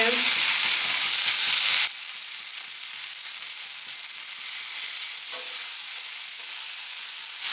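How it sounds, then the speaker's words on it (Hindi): Capsicum, cabbage and spring onion stir-fried on a high flame for veg hakka noodles: a loud, close sizzle hisses steadily for a couple of seconds, then drops to a softer continuous frying crackle, alone without speech. "इन सबको हाई फ्लेम पे हम लोग पकाएंगे।"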